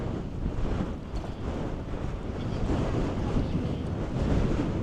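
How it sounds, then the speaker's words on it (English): Strong wind buffets the microphone in heavy, rumbling gusts during a bike ride in Mississauga, a continuous low roar that surges and dips throughout. "it's very windy now."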